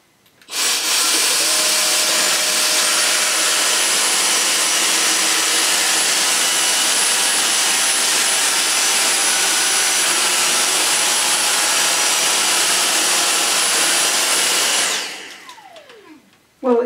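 A Dyson V6 cordless vacuum cleaner runs on max mode over carpet, a loud, steady high-pitched whine and rush of suction that starts abruptly, holds for about fourteen seconds, then winds down and cuts off.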